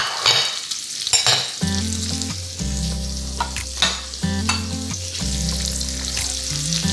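A pat of butter melts as thick burgers fry over low heat in a Staub cast iron skillet, a close, continuous sizzle broken by repeated clanking and scraping from a utensil, no voices.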